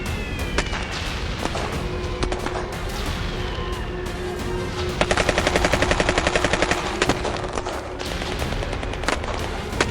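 A Maxim MG 08 heavy machine gun in a World War I German infantry setting fires a rapid, loud, evenly spaced burst near the middle, surrounded by scattered gunshots, crashes and dense battle noise.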